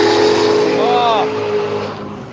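Radial drag racing car spinning its wheels at Willowbank Raceway, Australia, a loud engine roar with a brief rising-and-falling whine near the middle, heard under an announcer's talk.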